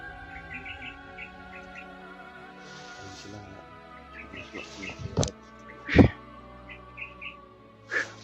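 A bird in the forest calls with short, repeated chirps, moderately faint, with a few sharp knocks and handling thumps nearby.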